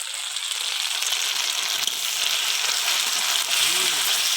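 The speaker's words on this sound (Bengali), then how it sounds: "জল দিয়ে সমস্ত মশলাটাকে কষিয়ে নেব" Spices with salt, turmeric and chili powder fry with a splash of water in a pan, giving a loud, dense, continuous sizzle and bubbling hiss that holds steady throughout.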